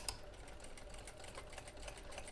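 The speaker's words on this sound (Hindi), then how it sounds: "ये पहले तो एक पैर की मार्जिन से हमें सिलाई लगाते हुए जाना है।" A sewing machine runs steadily while stitching a kurti sleeve, a quiet continuous whirring hum with faint rapid needle ticks and no voices.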